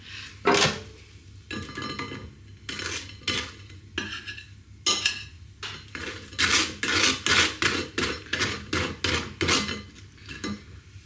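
Slices of air-fried toast are handled on plates for beans on toast, with crisp scraping and rasping strokes and ceramic clinks repeated in irregular bursts, close and clear, with no talking.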